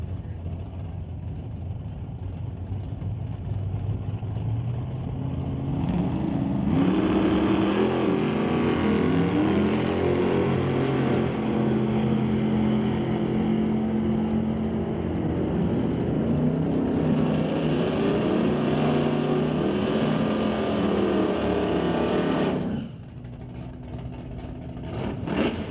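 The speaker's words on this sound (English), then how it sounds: "Chevy Nova to race against Brad Vinci in the Super Street BNC Racing Camaro." A Chevy Nova and a Super Street Camaro drag race side by side, their engines roaring loud and close in a long, sustained, layered blast that drops off sharply near the end.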